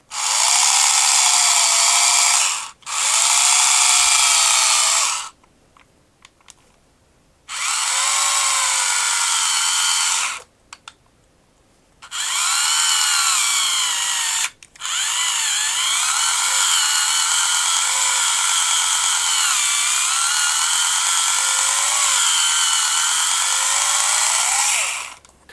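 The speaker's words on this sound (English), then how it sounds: "So let's start by drilling a hole in here and see what happens." A drill bores a 2 mm test hole into a hard, unforgiving plastic vintage Power Lords toy, the high whining bursts starting and stopping several times before one long steady run, with no talk.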